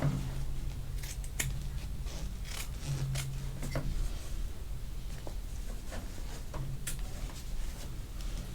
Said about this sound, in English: I'm going to cut around my stitching line. And I am cutting both the batting and my fabric